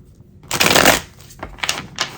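Tarot cards shuffled close up: a dense riffling burst in the first second, then several shorter rustling flicks as the deck is worked, with no talk.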